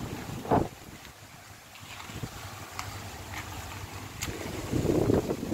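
Strong gusty wind roars against the microphone, a steady rushing buffet with a few louder blasts, over a faint background of moving water, at a mangrove esplanade in Mandurriao, Iloilo City, Philippines.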